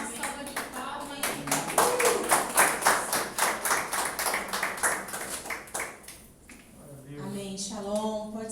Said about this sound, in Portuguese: Vamos fazer o pastor com uma salva de palmas